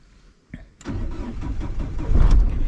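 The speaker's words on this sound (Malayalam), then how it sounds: "ഞാനിതേ വാഹനം സ്റ്റാർട്ട് ചെയ്യാൻ പോവുകയാണ്" A car engine cranks briefly and catches, then settles into a steady close idle with no talking.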